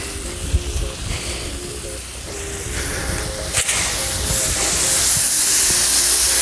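A pressure washer at about 800 PSI blasts a stone house wall with a steady, loud hissing spray that grows harsher and stronger toward the end, with a motor hum running underneath throughout.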